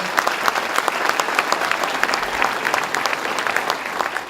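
A crowd at the Lake Placid ADK Challenge Awards gives Congresswoman Stefanik loud, sustained applause, a thick wash of clapping hands filling the room for several seconds with no voices over it.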